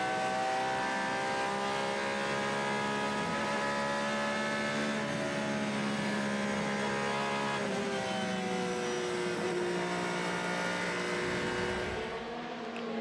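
The number 92 Porsche GTE Pro race car at Le Mans, heard onboard at full throttle, a loud continuous engine wail rising and shifting in pitch through gear changes, with no talking.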